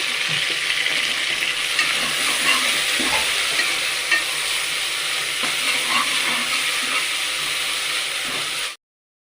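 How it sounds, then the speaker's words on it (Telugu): Chicken cooked dry without gravy for a biryani sizzles steadily in a pan, a loud, continuous hiss with faint scraping of stirring, before cutting off abruptly at the end. "కొంచెం చికెన్ అయితే కూర కింద వండుతున్నానండి. అంటే గ్రేవీ లేకుండా ఫ్రై కింద చేస్తాను"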